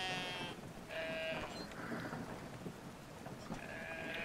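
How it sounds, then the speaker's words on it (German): Sheep in the game Brothers: A Tale of Two Sons bleat in several drawn-out, wavering calls, close by over a steady background of rain and storm noise. "Was macht er denn jetzt hier mit dem Schaf?"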